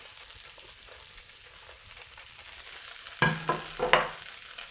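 Onions tipped into a hot pan of homemade coconut oil burst into a sharp, crackling sizzle, with stirring and scraping over quiet frying hiss, close and moderately loud.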